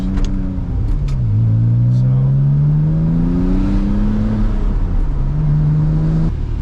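A high-mileage Porsche 911 Turbo engine revs and climbs through the gears from inside the cabin, loud and droning, with a brief easing off before it pulls again.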